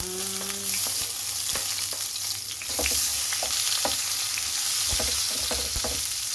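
Canned tuna sizzling in its own oil in a pan, a steady close frying hiss with scattered pops and crackles and a brief stir around the middle, with no talking.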